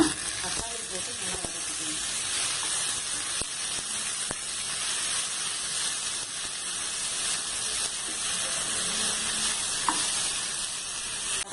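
Radish pieces sautéing in a pan while making radish chutney, giving a steady, close sizzle with a few light stirring clicks and scrapes, heard alone throughout.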